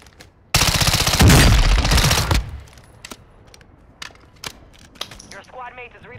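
A loud burst of rapid automatic gunfire in a shooter video game runs for about two seconds, followed by scattered quieter single shots and clicks, with a voice talking near the end.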